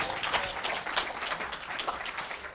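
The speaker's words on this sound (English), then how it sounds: "let's give him a huge round of applause." An audience at a conference talk claps for a speaker on body language, a short burst of dense, fairly close applause that swells and dips over a couple of seconds.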